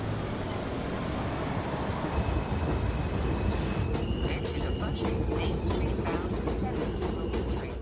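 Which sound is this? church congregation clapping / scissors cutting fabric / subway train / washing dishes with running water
subway train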